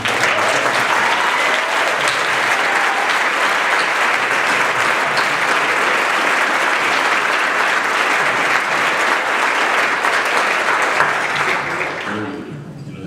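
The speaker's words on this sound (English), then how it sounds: "give a huge round of applause and big thanks to the whole team here at Hyatt" A big, sustained round of applause from a film festival awards crowd thanking the hotel team, loud and unbroken for most of its length before tapering off near the end.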